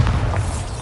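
A short, heavy booming thud from a Bombarda blasting spell in Hogwarts Legacy lands with a deep low-end rumble, close and loud, lasting under a second.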